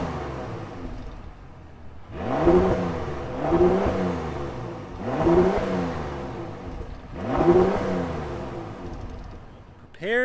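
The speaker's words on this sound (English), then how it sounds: "So let's rev it a little bit because we got to hear that." A Bentley Bentayga Speed engine revs four times in a steady rhythm, each blip rising and falling back to idle, close and moderately loud with brief pauses between.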